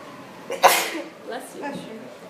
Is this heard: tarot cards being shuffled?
no